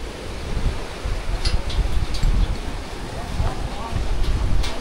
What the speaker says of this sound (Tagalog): kaya lang napakalakas ng hangin